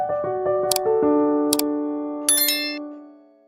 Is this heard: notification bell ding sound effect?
yes